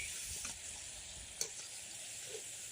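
Rava and curd pakoda fry in hot oil with a steady, soft sizzle and a crackle or two, alone with no talk and fairly quiet throughout.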